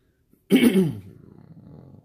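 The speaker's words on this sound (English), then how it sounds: "Clearing my throat." A single forceful throat clearing bursts out, followed by a softer, rumbling rasp trailing off over about a second and a half.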